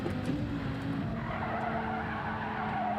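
Car braking hard with tires skidding in Gran Turismo 7 during a daily online race, a steady, loud engine drone under a continuous tire squeal throughout, with no talking.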